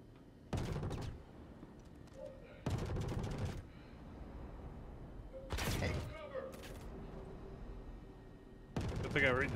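Bursts of loud rapid gunfire in a first-person shooter video game come in four separate volleys spaced a few seconds apart, with quieter background between them.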